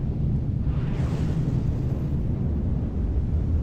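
Missile explosions pound a damaged shark-themed vehicle in From the Depths, a dense continuous low rumble of blasts with a brighter burst near one second, loud and without speech.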